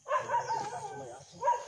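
A dog barks a few times in quick bursts, fairly close, with a final yelp after a brief pause.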